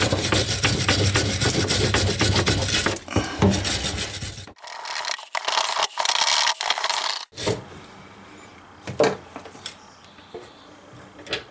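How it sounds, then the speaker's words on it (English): A wire brush scrubs the threaded bolt of a sink pop-up drain stopper, giving close, loud rasping strokes in quick bursts, then a few sparser scrapes toward the end. "we're going to take a wire brush and we're going to clean the threads"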